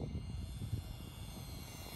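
A radio-controlled H-King Reno Aces FG-1 Corsair foam model airplane (990mm EPO, electric) drones steadily overhead, its motor and propeller giving a continuous buzzing whine at moderate distance with no talk.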